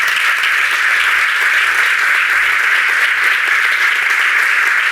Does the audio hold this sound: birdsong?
no